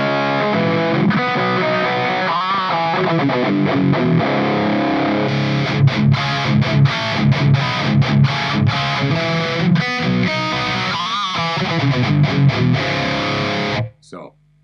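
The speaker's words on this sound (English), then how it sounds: "So SD1 in the 5150 loop sounds like this." An electric guitar plays through an SD1 overdrive pedal in the effects loop of a 5150 amp, giving a loud, distorted, sustained riff with chords and picked accents that cuts off abruptly at the end.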